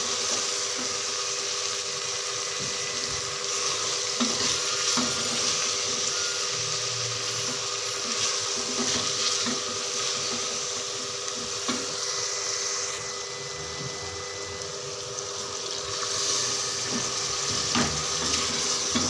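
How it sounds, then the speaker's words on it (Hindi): Minced meat keema stir-frying with chopped capsicum in a pan, a steady broad sizzle running throughout with occasional stirring scrapes and clinks. "अब मैंने इसके अंदर शिमला मिर्च ऐड कर दिया और इसको अच्छी तरह से भून लूँगी।"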